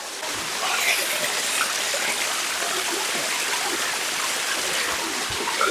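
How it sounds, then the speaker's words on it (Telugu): Ramapuram waterfall in thick forest near Tirupati pours in a loud, steady, close rush of falling and splashing water that holds evenly from start to finish. "పుష్ప ఓ తూరి వాటర్ ఫాల్ దాటుకొని ఆటికి పోయి నీళ్ళు తాగొస్తా పుష్ప."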